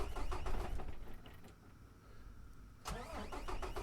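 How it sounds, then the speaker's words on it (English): A Peterbilt 389 truck engine in American Truck Simulator cranks and churns, a broadband mechanical rumble that eases off midway, then fires again sharply near the end and keeps running loud and close. "Let's just jump back into the cabin and see if we can start this engine."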